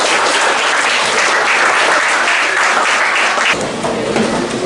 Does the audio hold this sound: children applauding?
yes